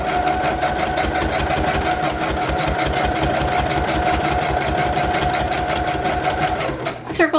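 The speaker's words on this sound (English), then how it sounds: "So I'm just going to sew this on" A sewing machine stitches a piece onto a junk journal, its needle clattering in a fast, steady rhythm, close and loud, before slowing and stopping at the end.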